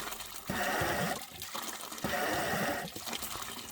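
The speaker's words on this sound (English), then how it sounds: "the water is running right through it" Water from a hose gushing through the radiator of a Volvo BM 500 tractor during a coolant flush, coming in two loud sustained bursts with a splashing, rushing sound between quieter gaps.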